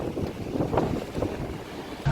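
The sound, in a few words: strong wind blowing outdoors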